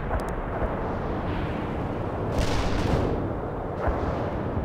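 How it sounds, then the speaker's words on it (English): Artillery fire in the strategy game World in Conflict, a dense continuous rumble of distant guns and blasts with heavier booms swelling around the middle and near the end, no voices. "Artillery firing."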